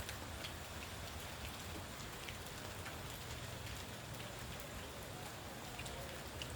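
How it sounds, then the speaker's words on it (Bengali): Rain falling at night among coconut trees, a steady soft hiss of drops on surfaces with faint scattered patters, continuous and fairly quiet, with no voices. "বৃষ্টির গতি কমে গেছে।"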